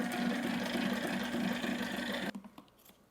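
A Sailrite LSZ-1 heavy-duty sewing machine with a binding attachment hums in a steady, close run for about two seconds, then stops abruptly, leaving a few faint clicks and handling knocks.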